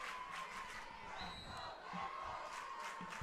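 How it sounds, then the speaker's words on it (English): Home crowd for the Adrian Maples at a 2019 high school football game against Tecumseh, a steady roar of cheering and shouting from a large crowd heard at a distance. "The Adrian Maples crowd is very loud"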